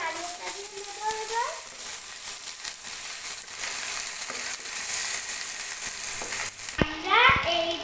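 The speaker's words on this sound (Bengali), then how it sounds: "আমরা এবার নাড়িয়ে দিয়ে নেব" Chilli and onion fry in a pan for noodles, sizzling steadily while a spoon stirs and scrapes at close range, with a voice talking over it.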